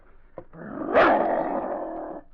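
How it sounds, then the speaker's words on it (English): A dog growls low and steadily for about two seconds, rising to a rougher snarl midway before trailing off, close and alone after a faint thump, in an old radio drama. "He's growling at me. He doesn't like me."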